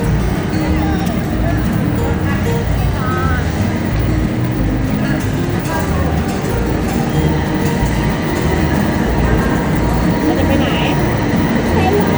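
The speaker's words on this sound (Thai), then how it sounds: "รถไฟฟ้าจะมาแล้วนะ" A Bangkok Skytrain Golden Line train arrives at the platform with a loud, steady rumble and rolling noise that fills the whole stretch, while a voice talks over it.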